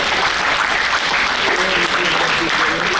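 A live audience at a Gujarati comedy show claps in sustained, dense applause, loud and even throughout with no pauses.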